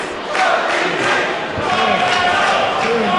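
Split crowd at a professional wrestling match in Philadelphia, a loud continuous roar of cheering and shouting with scattered thuds, filling the arena throughout.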